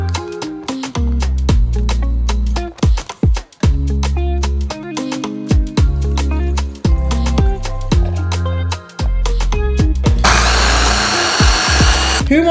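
A kitchen blender runs loudly in close-up, its motor whining at shifting pitches and briefly cutting out and restarting, then ending in a harsher, noisier grinding burst.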